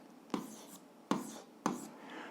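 A pen writes an algebra equation by hand on paper, three short scratchy strokes, close and faint, each starting with a sharp tap and trailing off.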